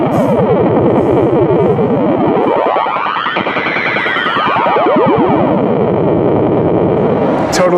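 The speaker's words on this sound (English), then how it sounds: "like this photon laser gun sound" A loud, sweeping synthetic photon laser gun effect from an Eventide H9 Max guitar pedal, its pitch gliding up and down in a wavering arc, dense and echoing.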